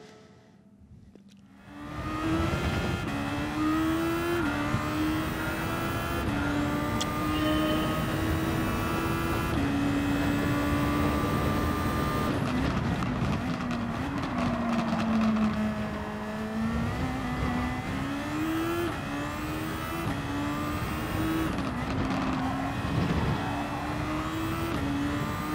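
A race car in Gran Turismo 7 drives continuously around the track. Its loud engine note climbs and falls through repeated gear changes, with tire and curb rumble underneath, after a quiet opening second.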